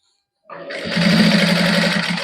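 A sewing machine starts up and stitches a warm-cloth T-shirt, a close, loud, steady mechanical whir with a low hum that begins abruptly after a short silence and keeps running.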